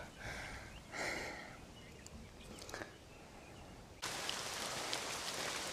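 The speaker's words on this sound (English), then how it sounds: "It's raining now, boys and girls." Light drizzle falling on a hiking trail on the way to a waterfall, a soft steady hiss of raindrops that swells abruptly louder and denser partway through, with no talk.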